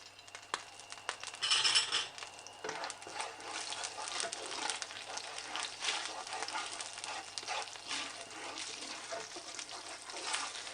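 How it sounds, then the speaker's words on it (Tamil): Black pepper and cumin roast in hot ghee for ven pongal, giving a soft, steady sizzle with quiet stirring scrapes and a brief louder flare early on. "நம்மளுடைய மிளகு, ஜீரகம் அது முதல்ல வறுக்கலாம்"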